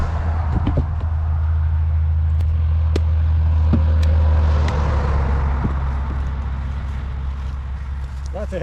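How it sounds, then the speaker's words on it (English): Heavy trucks hauling goods rumble past on a busy roadside, a steady loud low engine drone with passing whooshes, heard from a cabin woodlot with some talk over it. "Heavy trucks hauling goods to the north."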